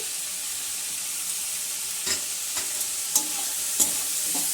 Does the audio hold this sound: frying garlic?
yes